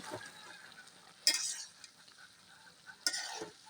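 Stem vegetable curry with Padma hilsa being sautéed in a pan, a faint low sizzle with two sharp scraping or clinking strokes from a spatula against the pan.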